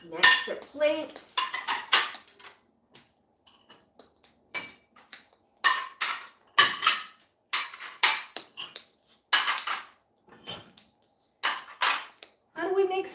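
Plates are unloaded from a dishwasher, with repeated sharp clinks and clatters of dishes knocking together, close and loud, in irregular bursts separated by brief quiet gaps.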